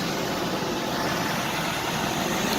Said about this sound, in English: you can see the engine's running right now